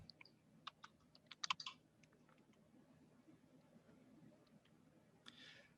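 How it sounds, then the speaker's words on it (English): Soft, faint keystrokes on a computer keyboard come in quick clusters as code is typed, with a brief flurry early on, scattered clicks afterward and a last burst near the end. "And then just go ahead and type in person.dob again."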